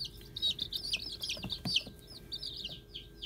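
A young chicken, probably a cockerel, gives a run of quick, bright clucks and chirps up close, with faint handling noise underneath and no talking.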